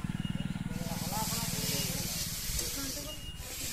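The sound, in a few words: potatoes frying in a pan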